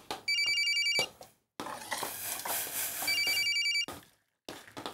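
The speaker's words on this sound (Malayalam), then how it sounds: "ഫോൺ അടിക്കണടി." A telephone rings in a home scene from a Malayalam comedy serial, with two bursts of electronic trilling bell separated by a pause, loud and close, with muffled talk between the rings.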